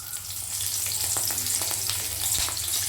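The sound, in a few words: spices and green chillies frying in oil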